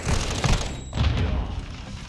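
A Semtex grenade goes off in the Call of Duty MW2 campaign: close, heavy booming blasts with rapid gunfire and rattling debris, two main thumps about half a second apart.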